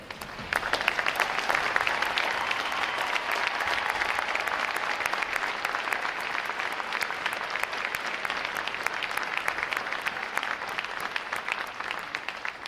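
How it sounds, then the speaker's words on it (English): A large crowd at a U.S. Navy boot camp graduation ceremony applauds steadily for more than twelve seconds, dense and loud throughout, with no voices on top. "A round of applause to our family and friends."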